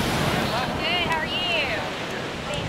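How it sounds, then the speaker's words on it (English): Ocean surf rolls onto a beach during a horseback ride as a steady broad wash of wave and wind noise, with faint high calls drifting over it. "They're not the fondest of seeing those waves roll in over them"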